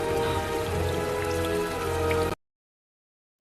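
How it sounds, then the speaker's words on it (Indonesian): Heavy rain pours steadily in a film scene, a dense close hiss of falling water that cuts off abruptly into silence. "Karena hujan deras, Christine bahkan kesusahan untuk naik kembali ke atas."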